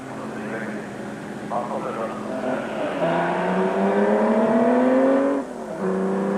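A 1949 Ferrari Barchetta driven hard around Goodwood, its engine note climbing steadily in pitch as it accelerates, dropping briefly, then rising again, moderately loud beneath a voice talking.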